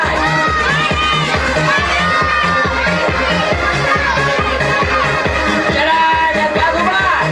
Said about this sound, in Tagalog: Sigaw paborito yung kulay.